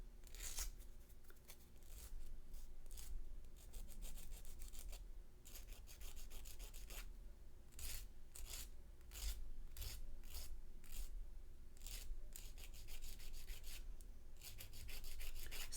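Close, steady rasping strokes of a sanding stick rubbed back and forth against wood, repeated in short bursts with brief pauses.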